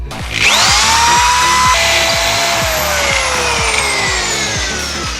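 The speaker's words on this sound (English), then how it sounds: "I'm going to drill another hole through this thing" A power drill whines loudly as it bores a hole through a piece of wood for a homemade chain flail, one sustained high-pitched run lasting several seconds with a steady grinding hum beneath and the motor pitch slowly drifting down.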